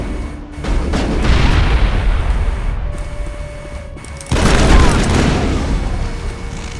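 Two heavy booms from a grenade in the Mass Effect video game, the second blast at mid-clip louder and followed by a long rumbling roar, with game music and effects underneath.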